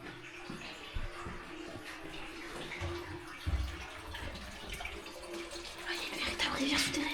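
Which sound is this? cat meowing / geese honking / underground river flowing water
underground river flowing water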